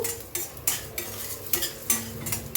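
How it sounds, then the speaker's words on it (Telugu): Urad dal being fried in a pan, a spatula scraping and tossing the lentils in regular strokes over a soft sizzle, with close metallic clinks and no talking. "కొంచెం ఎరడాలుగా వేగేంత వరకు వేయించుకుందాము."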